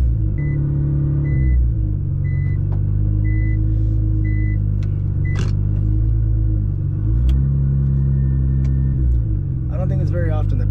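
A Nissan GT-R with 5% window tint rumbles low and steady in first gear, its deep engine drone continuous and close while someone talks over it throughout.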